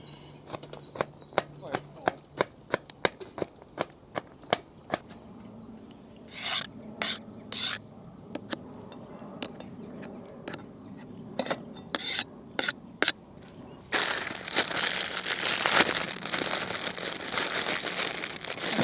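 Garlic cloves minced with a knife at an outdoor camp cooking spot, a run of sharp rhythmic taps on a board followed by denser rubbing and rustling noise.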